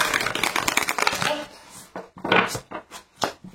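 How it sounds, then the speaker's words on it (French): Oracle cards being shuffled and drawn by hand: a dense run of rapid riffling flutters, then a few separate soft card snaps and slides, close and fairly quiet. "je vais tirer une carte"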